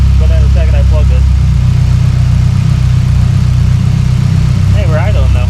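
A Mitsubishi Lancer EVO X engine idles just after a vacuum leak was found and plugged. It is a close, steady low rumble that runs throughout, with voices briefly heard at the start and near the end.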